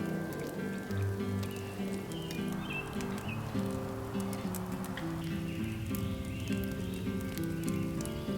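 Steady rain pattering on a tent at a campsite in Alaska, a dense continuous patter close by with low tonal hum beneath, no voices.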